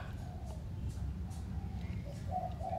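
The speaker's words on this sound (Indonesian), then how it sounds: "Ketika burung perkutut berbunyi" A zebra dove coos softly in short repeated notes, fairly distant, over a steady low background rumble.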